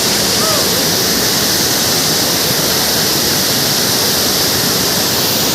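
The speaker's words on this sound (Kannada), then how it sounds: "ಫಾಲ್ಸ್ ಮಾತ್ರ ಕ್ರೇಜ್ ಆಗಿದೆ ಗೈಸ್, ಸಾಕತ್ತಾಗಿದೆ" A hidden waterfall near Thirthahalli roars in a loud, constant rush of falling water, heard close and unbroken, with no speech over it.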